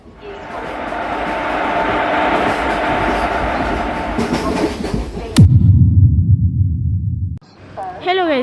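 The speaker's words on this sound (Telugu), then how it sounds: "ultra realistic train mobile game అయితే తీసుకొచ్చేసాను" A WAP-4 electric locomotive in the Indian Train Simulator mobile game runs with a steady broad rumble and clatter, then cuts to a lower, heavier drone before a short rising tonal sound near the end; no words are spoken.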